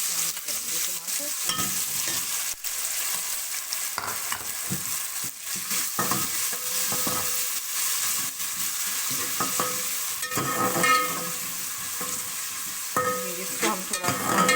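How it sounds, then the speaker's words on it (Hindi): Tomatoes with ginger-garlic paste sizzling in a hot pan for channa pulao, a steady close frying hiss broken by repeated scraping stirs of a spoon against the pan. "इसको हम टमाटरों को थोड़ा सा फ्राई करेंगे।"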